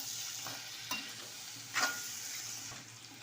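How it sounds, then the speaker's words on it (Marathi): Potato, chopped coriander and tomato stirred together in a pan for an okra and potato dish, with a soft steady sizzle and a few brief spoon scrapes, close and without talk. "आता यामध्ये कोथिंबीर आणि हा टोमॅटो आपण कट करून घेतला तो घालायचा आहे आणि परत एकदा छान असं एकजीव करून घ्या"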